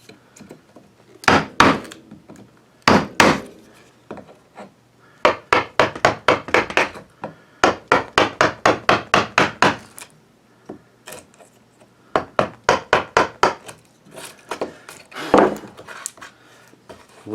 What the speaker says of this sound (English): I'm going to have to plane this whole surface down some